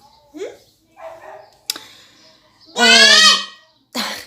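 A dog indoors gives one long loud bark followed by a shorter second bark, both close and clear, after a few faint whimpers and small noises.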